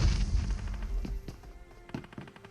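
A grenade bursts in the mobile battle game BGMI, a heavy boom that decays over a couple of seconds into scattered thuds and crackles.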